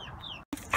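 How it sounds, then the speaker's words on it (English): A rooster gives a short, close cluck-like call, broken by a brief gap and then a sharper squawk at the end. "This one, I think, for sure is a rooster."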